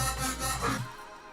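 A sustained synth bass made in FL Studio, with automated 3D balance, drones for about a second before fading, thick and buzzy with a shifting tone.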